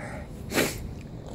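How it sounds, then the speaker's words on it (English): One sharp human sneeze bursts out in the middle against a quiet indoor background, brief and fairly close, with nothing else happening around it. "my sneezes always hurt"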